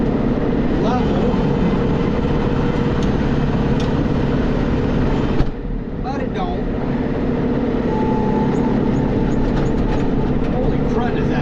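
A rental tractor with fast-running hydraulics gives a loud, continuous mechanical drone and rumble close by, dipping briefly midway before resuming at full strength.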